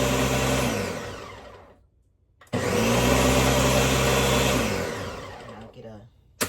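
A blender pulses a dough of flour, butter and sharp cheddar cheese in two loud whirring bursts separated by a short pause, the motor sagging as each burst runs down.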